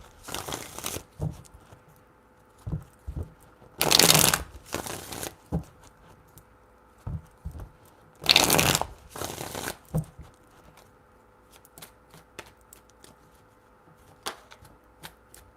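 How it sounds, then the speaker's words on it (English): Tarot cards being shuffled in several short bursts, riffling and crisp, separated by quiet pauses and a few small taps and handling sounds. "Four shuffles."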